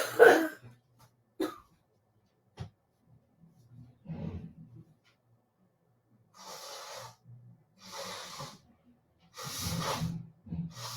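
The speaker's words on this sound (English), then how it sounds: "I got to blow my nose." A few snorts and a throat sound, followed by three forceful, hissing nose blows spaced a second or two apart, close by, with quiet pauses between.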